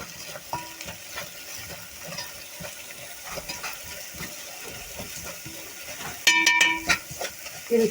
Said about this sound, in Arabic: نضيفهم على البصل وقلبي بقى وايدك ما تسيبش البصل.